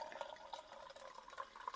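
Perry cider pours out of a bottle in a soft, steady trickle with small gurgles and splashes, faint and close, with no talking.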